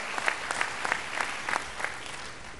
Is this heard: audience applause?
yes